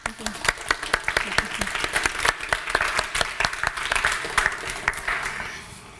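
Seminar audience applauding a film academy participant, a brisk run of many individual claps at moderate loudness, with some talk mixed in.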